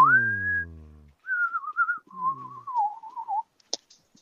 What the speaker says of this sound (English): Why are you whistling the E.T.